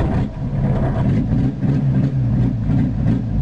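An old engine, likely a Volkswagen Rabbit, runs after long storage with a sticky throttle: a steady, loud, low rumbling idle that swells slightly as it revs, close by with no talking.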